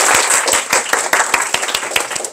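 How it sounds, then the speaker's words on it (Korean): Students in a science class clap at the start of an earth science lesson, with loud, close, rhythmic claps beating in a steady even pulse, backed by a brighter wash of scattered clapping. "박수!"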